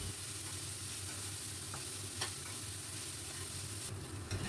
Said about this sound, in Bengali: খুব ভালো করে আমি ভাজবো।